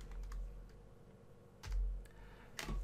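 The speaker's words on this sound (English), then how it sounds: "Type the word set" Several keystrokes on a computer keyboard typed at a command prompt, a few sharp clicks spaced irregularly over a faint background hum, with no voices.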